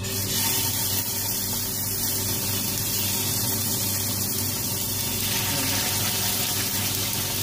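Fish shallow frying in about half a cup of oil in a karahi over a medium flame, giving a steady, loud hiss and sizzle that runs unbroken through the whole stretch with no talking.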